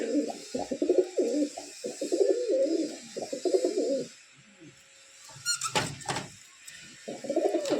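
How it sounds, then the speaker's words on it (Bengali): A pair of Delhi pigeons in a cage coo in repeated rounds of low, throaty, rolling calls, close and clear, broken by a brief lull and a few sharp knocks before the cooing resumes. "এই খাঁচায় এক জোড়া দিল্লির পায়রা আছে,"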